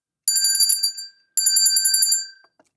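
A bright bell chimes twice in quick succession, each ring sustained for about a second before decaying, clear and close with no talking over it.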